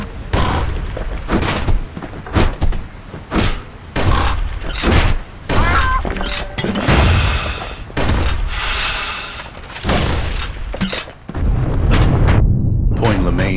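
Gunfire and heavy booms from the Bastion video game, repeated loud blasts in irregular bursts with slams and crashes between them, close and forceful, alongside a narrator's voice.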